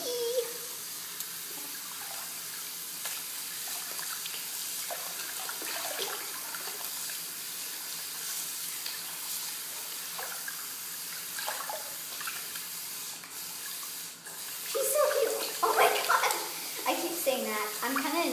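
Water runs from a tap into a bath as a plush golden retriever toy is washed, a steady splashing flow throughout with a voice and brief splashes over it toward the end.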